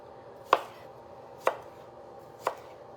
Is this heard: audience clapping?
no